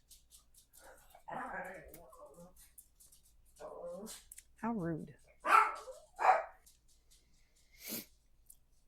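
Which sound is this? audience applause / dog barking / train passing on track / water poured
dog barking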